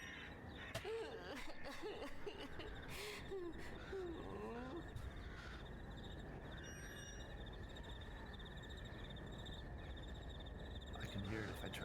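Crickets trill continuously at a low level in the background, while crows caw in a series of harsh calls early on before fading, leaving the steady insect chorus.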